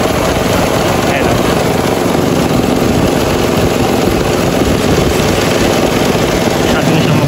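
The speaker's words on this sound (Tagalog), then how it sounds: "Pansinin niyo yung kanyang fan, lakas ng vibrate." A car engine idles with its radiator fan vibrating hard, on a car with weak air-conditioning cooling and a sudden rise in coolant temperature. The noise is a loud, dense, unbroken roar that stays steady throughout.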